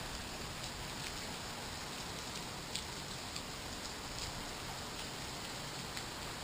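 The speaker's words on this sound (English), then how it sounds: "Just a lot of driving rain, some wind." Steady driving rain with some wind from the remnants of Hurricane Irma, a constant broadband hiss with faint scattered drop ticks, moderately quiet and unbroken throughout, no voices.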